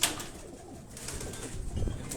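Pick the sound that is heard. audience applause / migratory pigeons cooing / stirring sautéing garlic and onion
migratory pigeons cooing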